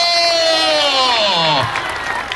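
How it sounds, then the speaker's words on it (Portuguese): Crowd at a Catholic religious procession for Santa Luzia in Barra do Longa, Piauí, cheering and clapping loudly outdoors while a voice calls out over the noise. "nas palmas o povo de Deus! Viva Jesus Cristo!"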